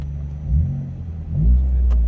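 A car with a modified exhaust gives two short revs, a deep rumbling swell that rises and falls, close by and fairly loud with no talk over it.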